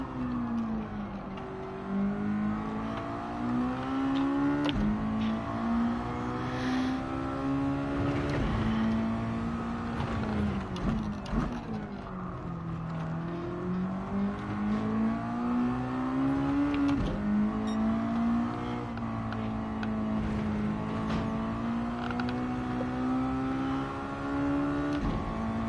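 Electric RC car lapping a practice track for a Daytona RC event, its motor whine rising and falling in pitch through turns and straights, steady and close throughout with no talk.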